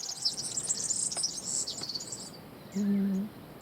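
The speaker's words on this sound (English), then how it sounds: "Sorry, got distracted by a bird." A bird chirps outdoors in a quick series of high, thin tweets over the first couple of seconds, fairly clear above a soft background hiss, followed by a brief low hum.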